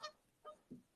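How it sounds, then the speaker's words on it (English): Geese honk in the background, four quick, faint calls in rapid succession with no talk over them. "The geese again laughing in the background."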